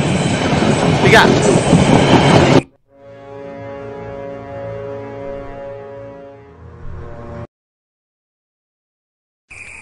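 A train rumbles past loudly and close for a couple of seconds before cutting off, followed by a sustained, tonal, horn-like drone and a brief return of noise, while a voice speaks briefly.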